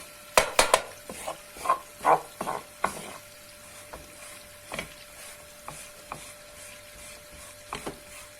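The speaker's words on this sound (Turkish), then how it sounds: "Sık sık iyice karıştıralım ki alttan dibi yanmasın." Hatay-style cheese flour halva is stirred in a pan, a burst of quick scraping strokes at first, then slower, spaced scrapes and taps of a utensil against the pan, over a steady faint sizzle with no voices.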